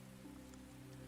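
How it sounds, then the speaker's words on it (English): Soft, steady rain patters in a faint, continuous hiss over a low droning hum, with no speech and no break in the sound. "So much cooling rain,"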